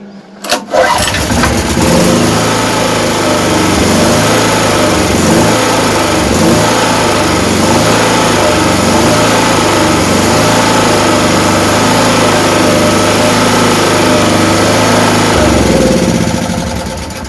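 A petrol generator with an oil leak from a pushed-out seal is pull-started with a quick cord yank, catches immediately and runs loud and steady, holding a constant engine drone until it fades at the end.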